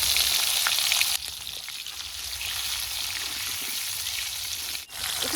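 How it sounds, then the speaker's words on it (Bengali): Whole onions, ten to twelve of them, sizzle steadily in hot oil with a pinch of salt for a taki fish curry, a dense continuous frying hiss close by that dips briefly after the first second. "এই গোটা পেঁয়াজ কটা আমি তেলের মধ্যে দিয়ে দিব"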